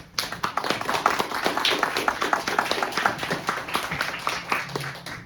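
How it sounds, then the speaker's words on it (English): An audience claps to welcome a panel at an academic event, a few seconds of steady applause from a modest crowd with individual hand claps distinct, tapering near the end. "Please give them a round of applause"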